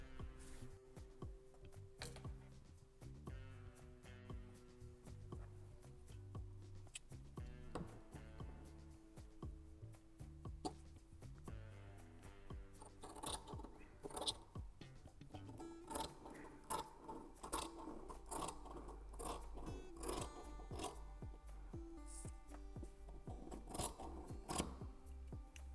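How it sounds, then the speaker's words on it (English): Scissors snip through dress fabric to shorten the garment by about 20 centimeters, giving a steady run of close, crisp cutting strokes over faint background music with no talking. "I'm going to cut it at least 20 centimeters more so it comes to the length of this one I'm wearing"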